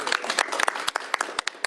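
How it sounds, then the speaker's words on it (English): At a governor's bill signing, a small group claps in an uneven, brisk burst, the claps close and overlapping, with voices mixed in among them. "Round of applause."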